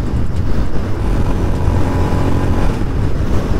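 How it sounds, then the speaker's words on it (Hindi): A Royal Enfield Scram 411 motorcycle being ridden gives a loud, steady engine drone mixed with heavy wind rush, continuous throughout and without any talking. "तो फाइनली राइड कर रहे हैं स्क्रैम्बलर 411 स्क्रैम 411"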